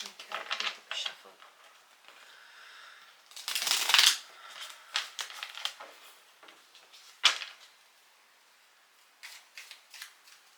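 A tarot card deck being shuffled by hand, with quick papery riffles and flutters in several bursts separated by short pauses, close and fairly clear.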